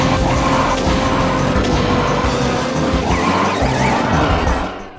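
Kart drifting in the Nintendo 64 game Mario Kart 64: a continuous loud engine drone with wavering tire squeal runs close and steady, fading only at the very end, no talking.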